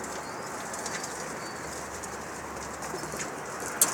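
Pigeons kept by pigeon flyers coo softly and flap their wings over a steady outdoor hiss, with one sharper flutter near the end.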